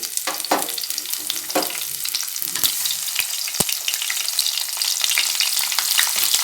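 About ten to fifteen cloves of crushed garlic fry in hot oil in a pan with curry leaves, sizzling steadily and loudly at close range, broken by sharp ticks and scrapes as they are stirred, with no voices.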